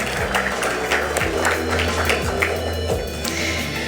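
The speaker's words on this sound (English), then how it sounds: "Let's have a round of applause." A conference audience at a 2015 entrepreneurs event gives a round of applause, a moderate, steady patter of clapping hands with a few sharper individual claps standing out, continuous through the moment.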